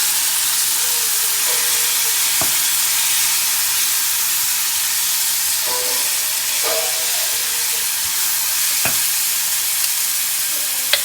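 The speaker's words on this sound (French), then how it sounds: "j'ai les légumes qui commencent à bien cuire" Vegetables frying in a pan before spices are added, a steady broadband sizzle throughout with a few soft stirring clicks and scrapes, close and fairly loud, no voices.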